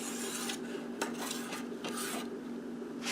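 A Magnus Stinger knife is drawn across a 2000 grit sharpening stone in a steady series of gritty, rasping strokes, close and fairly quiet, with no voices.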